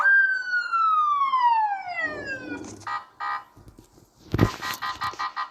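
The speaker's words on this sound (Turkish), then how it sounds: "dışarıdan polis sesleri geliyor" A police siren wails from outside, first a long descending tone, then short repeated yelps and bursts, moderately loud with brief thuds between.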